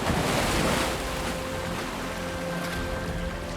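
Waves slosh and roar across a choppy, freezing fjord, with a loud rush at first that settles into steady surf and wind noise.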